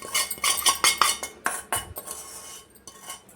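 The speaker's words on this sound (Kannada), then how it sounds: "ನಾನು ಅದೇ ಜಾಲಿ ಸೌಟ್ನಿಂದನೇ ಮಿಕ್ಸ್ ಮಾಡ್ಕೋತಾ ಇದ್ದೀನಿ" A metal slotted ladle stirs a puffed rice mixture in a pan, giving close, quick scraping and clinking strokes in an uneven rhythm that taper off toward the end.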